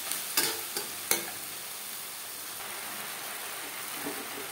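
Pieces of cut, washed mutton fat fry in a hot pan with a loud, continuous sizzle, punctuated early on by a few sharp clanks and stirring knocks.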